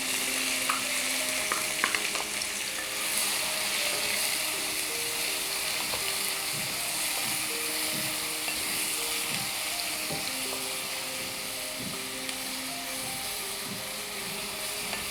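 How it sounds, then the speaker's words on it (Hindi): Onions fry in hot oil with whole spices for a spicy lal maas mutton curry, giving a steady close sizzle broken by occasional stirring scrapes, with no talking. "खड़े मसाले भुन गए हैं। अब हम इसमें प्याज डाल लेते हैं।"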